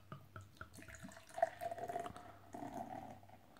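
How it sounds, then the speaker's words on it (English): Raspberry wheat beer, 5.7%, poured from a bottle into a glass, a soft liquid trickle and splash that rises in volume as it fills, close and quiet. "Let's get this one out into the glass."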